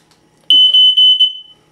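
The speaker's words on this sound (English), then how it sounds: "Don't forget to test it." Household smoke alarm sounding during a test: a single loud, shrill, piercing electronic beep that pulses briefly before cutting off, close and alone in an otherwise quiet room.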